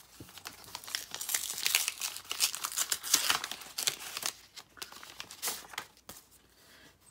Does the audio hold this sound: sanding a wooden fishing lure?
no